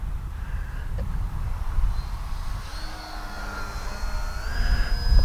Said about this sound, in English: Now let's see if we can land the plane.